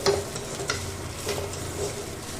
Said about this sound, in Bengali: এটাকে একটু নাড়াচাড়া করে নেব মানে ভাতটাকে মিশিয়ে নেব